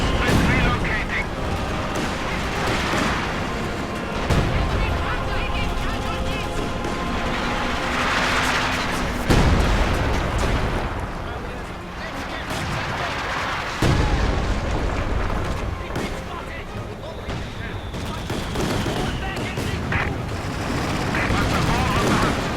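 Dense gunfire and booming artillery rumble continuously through a Company of Heroes 2 battle, with sharp bursts and heavy impacts layered over a constant roar while someone talks over the action.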